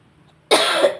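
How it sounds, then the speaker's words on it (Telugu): A single harsh cough bursts out abruptly after near silence, close and loud, fading over about half a second. "దగ్గు తెగ తినేస్తుందండి"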